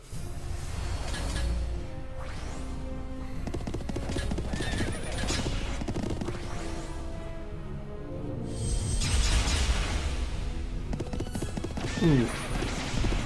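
Horses neigh and gallop in the strategy game Symphony of War, with repeated whinnies and hoofbeat clatter amid clashing battle sounds, loud and dense throughout.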